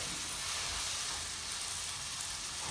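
Chopped tomatoes sautéing in a pan for Punjabi sarson ka saag, a steady, dense sizzle that holds evenly throughout with no talking.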